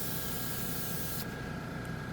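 A Dspiae no-wash airbrush sprays paint at close range: a steady, close hiss that carries on evenly, its brightest edge dropping away partway through.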